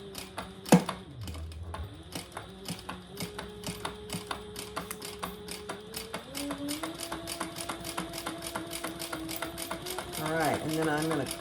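A sewing machine stitches a hip bag with a rapid, steady mechanical clatter at close range, while someone talks over it.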